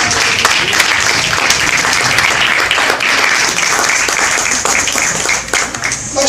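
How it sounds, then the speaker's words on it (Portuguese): A church congregation bursts into loud, sustained applause, dense clapping that stays steady and close for the whole stretch with no pauses. "Quem aceita isso como verdade, dê uma salva de palmas ao Senhor."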